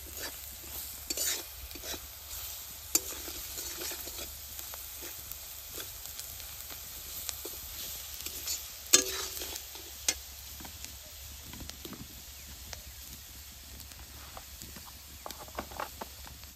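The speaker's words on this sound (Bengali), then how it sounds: "মশলাটা ভাজা ভাজা করে দিব" Spices with turmeric and salt are stir-fried in oil for a cauliflower curry. A soft background sizzle runs under repeated scraping and clattering strokes of a spoon against the pan, fairly quiet and without speech.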